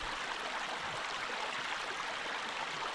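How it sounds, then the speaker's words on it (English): A small, low-running moorland stream flows above a series of little falls in an old tin streaming area, giving a steady, even rush of water, continuous and moderately close with no other sounds. "A lovely stream here"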